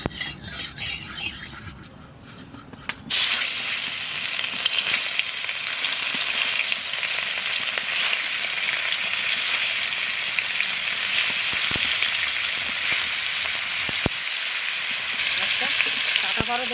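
Fish pieces fry in a pan, starting quietly and then breaking into a loud, continuous sizzle that runs to the end with occasional clicks and scrapes of utensils; no one speaks.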